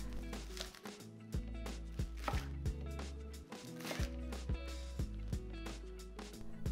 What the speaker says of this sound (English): Chop green onions into sections.